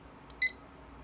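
A barcode scanner beeping while scanning a Coke bottle, a faint tick followed by one short, clean, high-pitched electronic beep in a quiet room.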